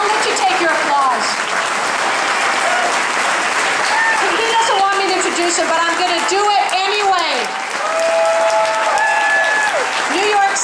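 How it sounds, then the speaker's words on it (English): Applause for Senator Chuck Schumer at an Armenian Genocide commemoration runs as a steady crowd wash, while someone speaks over it near the microphone and an electronic whine sweeps in and out. "I'll let you take your applause."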